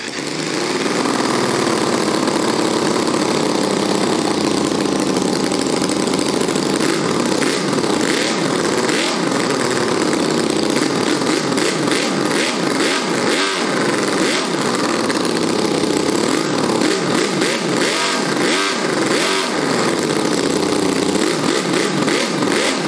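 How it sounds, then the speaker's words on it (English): A model VR5 engine runs continuously at close range, with a loud, dense buzzing drone, clattering mechanical detail and some rises and falls in revs throughout, and no talking over it. "Now I stop talking and we start the VR5 engine."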